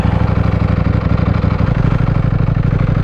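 A Ducati Panigale V4 S in race mode, its engine loud and close with a rapid, even pulsing idle and throb that stays steady throughout, no voices.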